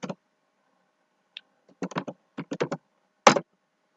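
Code is typed on a computer keyboard in a C# game-development editor. Sparse, crisp keystrokes come singly and in short quick clusters, close and alone against silence, with one sharper final tap.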